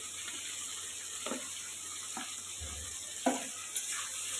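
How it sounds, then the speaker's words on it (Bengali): Thick-cut onions go into hot oil with a bay leaf, giving a soft, steady sizzle punctuated by a few quiet scrapes and taps of a spoon in the pan. "তেলে তো দিয়েই দিয়েছিলাম তেজপাতা, আর দিয়ে দিচ্ছি পেঁয়াজ"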